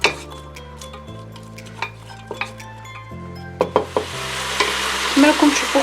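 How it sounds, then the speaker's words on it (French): Meat and onions fry in a pot for a split pea soup, a close sizzle broken by sharp clinks and scrapes of a spoon stirring, growing louder and hissier toward the end. "j'ai mis ma viande et j'ai rajouté les oignons et on va les laisser revenir"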